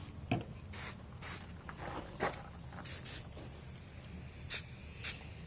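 A spray gun mists yellow paint onto a spotted bass taxidermy mount in short, soft hissing bursts. The bursts are spaced irregularly over quiet background noise, with faint rubbing and handling sounds between them.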